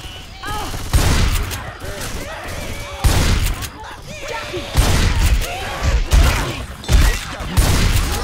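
Repeated bursts of gunfire in the video game Left 4 Dead 2 on the Dark Carnival campaign, loud volleys every second or two over a steady game backdrop, with voices talking faintly in between.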